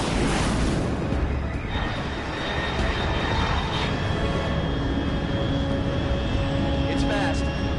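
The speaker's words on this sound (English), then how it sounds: "Control, unidentified aircraft detected." An aircraft roars overhead in the video game Metal Gear Solid Delta: Snake Eater, a loud, broad engine rush that holds throughout with faint tonal whines, while a voice speaks over it.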